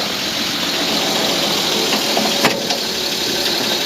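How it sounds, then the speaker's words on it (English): A 1954 Dodge Power Wagon, a rare winch model, idles just after a cold start, its engine giving a loud, steady rumble with broadband roar and faint rattles, recorded close with no talking. "That is an ice cold start right there."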